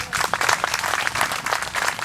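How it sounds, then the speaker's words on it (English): Crowd at an outdoor Memorial Day commemoration in Ocoee breaks into applause, a brisk patter of many hands clapping at moderate distance, steady for two seconds with little talk over it. "How about a round of applause for that?"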